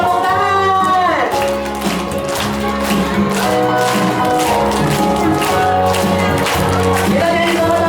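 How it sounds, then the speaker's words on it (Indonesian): Children sing along with a music track while clapping their hands in a steady beat at a lively kids' reading show. The clapping continues throughout, close and mixed with the singing and accompaniment. "Sambil tepuk tangan."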